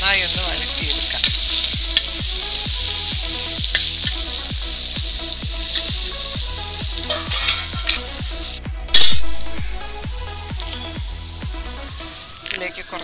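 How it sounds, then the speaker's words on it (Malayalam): Onions sizzle and fry in a pan while being stirred, with loud continuous frying hiss and regular rhythmic scraping strokes of the spoon, ending with a sharper clatter. "സവാള ചേർത്ത് വഴറ്റാം."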